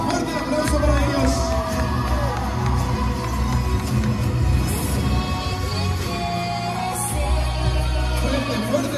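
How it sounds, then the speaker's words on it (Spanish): Guests at a quinceañera party clap and cheer in a noisy hall, a steady crowd roar with shouts and whoops over low background music, moderately loud throughout. "Fuerte, fuerte el aplauso."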